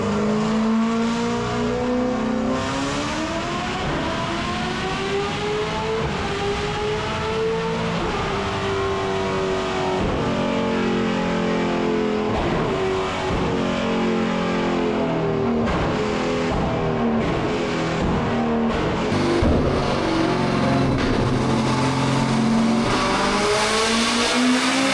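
A Corvette Z06 with an aftermarket exhaust revs hard, the engine pitch climbing and falling through repeated sweeps, loud and close throughout with no voices.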